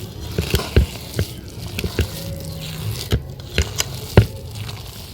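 Hands mix a thick lentil batter with spices for traditional Medinipur bori, giving irregular wet squishes, slaps and pats at close range with short gaps between them and no voices.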